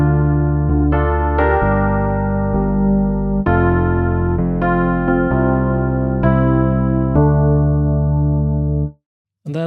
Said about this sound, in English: I used an electric piano here